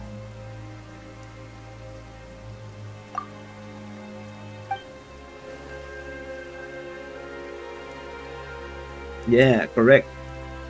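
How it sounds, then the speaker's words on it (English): Soft steady rainfall in Genshin Impact, a faint continuous patter beneath music, with a few isolated drip sounds and a short spoken exchange near the end. "is it raining all of a sudden?"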